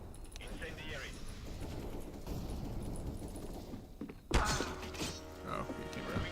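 An incendiary grenade bursts in a first-person shooter with a sudden, close thump, then a crackling flare of flame lingers, following a stretch of talking and game ambience.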